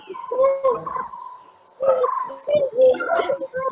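A person imitates a brown-headed barbet call with hooting, repeated tonal notes in two bursts separated by a short pause.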